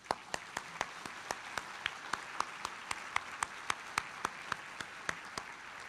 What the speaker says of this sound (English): please join me with your applause in thanking our guests, our sponsors, our staff, our volunteers